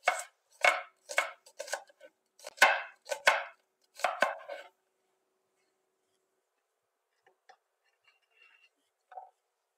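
A knife chops food on a cutting board in a home kitchen, about a dozen crisp, close taps in quick uneven bursts, then falling silent apart from a few faint knocks.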